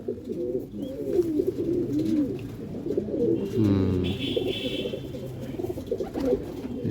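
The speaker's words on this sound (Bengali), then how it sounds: "দেখুন চটিয়াল, চটিয়াল মাদ্রাসি, প্রচণ্ড ছটপটে পায়রা।" Chotiyal Madrasi pigeons cooing close by in a loft, a steady run of soft, throaty coos with low rumbling calls throughout and a faint higher chirp midway.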